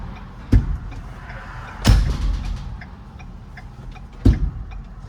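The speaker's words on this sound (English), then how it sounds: "Open the door real quick." A car door on a drive through the woods opens and shuts, with sharp thuds and latch clunks at three separate moments over a low rumbling background, near and fairly loud.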